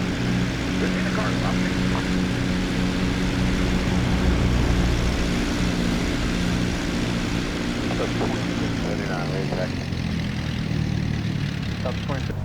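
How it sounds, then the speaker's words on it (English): Propeller engine of an Aerobask Lancair Legacy RG in the X-Plane 12 flight simulator, a steady loud droning hum with layered tonal whine holding evenly throughout, while a voice talks over it. "The sounds on this aircraft are definitely very well made"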